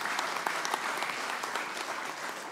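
Audience applause at the declaration of a presidential and vice-presidential ticket in Indonesia, a dense, steady wash of many hands clapping throughout, loud and close with no voices over it.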